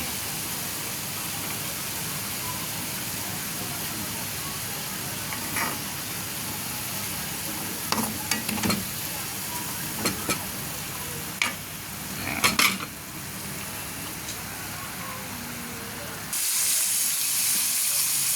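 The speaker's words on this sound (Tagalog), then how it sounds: "ginigisa ko yung atswete o anato kasi parang kulang yung kulay" Annatto (achuete) seeds sauté in a pan with aromatics for a frog and kamias dish, giving a steady close sizzle broken by scattered spoon scrapes and stirring clatter. Near the end the frying swells louder.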